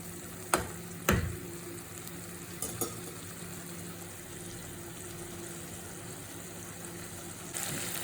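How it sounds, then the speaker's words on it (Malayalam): Prawns frying in a pan with thick coconut milk poured in give a steady, close sizzle, broken by a couple of sharp utensil knocks near the start and a brief louder hiss at the end. "അതുകൊണ്ടാണ് ഇങ്ങനെ ആ പാലും കൂടെ ഒഴിച്ച് നല്ലപോലെ ഫ്രൈ ആവുന്നത്"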